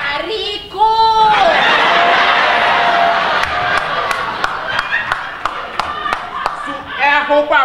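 Clapping and crowd noise at a comedy show, starting after a voice and continuing as a run of sharp, distinct claps over a murmuring audience, with talk returning at the end.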